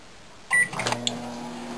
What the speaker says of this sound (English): I'm going to microwave it for a short time